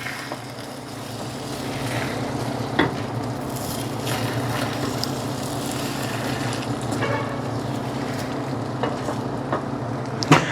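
Eggs fry in an already hot pan, giving a steady close sizzle with a few scraping knocks from a spatula moving them around, and no talking.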